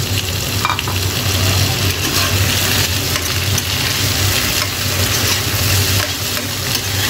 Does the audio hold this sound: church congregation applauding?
no